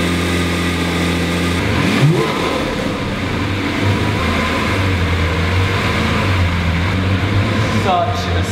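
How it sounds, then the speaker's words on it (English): A Lamborghini Aventador SV barks into a cold start, its engine note sweeping up in a loud rev before settling into a steady, heavy idle that runs close and continuous to the end, with a brief voice near the close. "we need to move the Aventador SV. So we're going to get a cheeky cold start"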